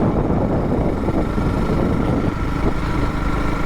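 A small Honda motorcycle engine idles steadily at tick over with a low, even rumble, continuous and close throughout, no voices.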